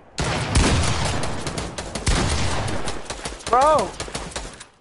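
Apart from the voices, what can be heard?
shotgun gunfire in a video game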